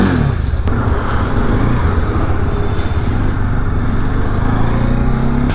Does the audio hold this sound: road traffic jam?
yes